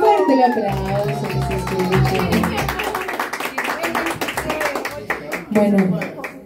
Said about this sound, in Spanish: Y fuerte el aplauso.